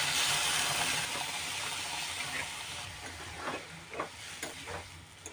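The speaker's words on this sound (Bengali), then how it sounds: "এরপর আমি জলটা ঢেলে দেবো।" Hot water is poured into roasting rava in a pan for Bengali jhal upma, bringing a loud steamy hiss and sizzle that gradually fades as stirring scrapes and taps emerge close by.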